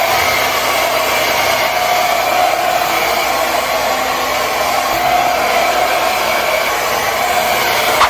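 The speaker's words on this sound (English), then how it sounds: "I'm gonna blow dry the rest of my hair." A hair dryer blowing hair dry at home, a loud, steady whooshing drone held close for the whole stretch with no talk.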